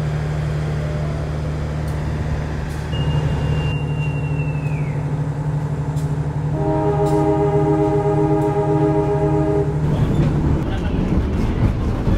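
A commuter train of the Supas line pulls into Bangil station, heard as a steady low rumble with a long falling squeal of brakes, then a sustained whine before the sound breaks up; the level stays fairly constant and near throughout.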